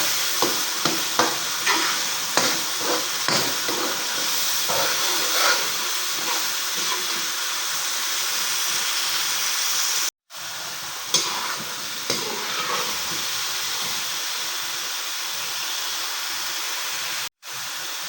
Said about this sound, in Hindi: यहाँ पर अभी मसाला भुना जा रहा है।